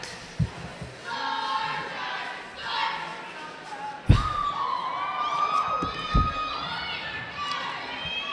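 Cheerleaders chant and shout in a gym during a boys high school basketball game, Chariho at North Kingstown, their voices rising and echoing amid crowd noise, with a few sharp thuds and sneaker squeaks and an announcer talking over it.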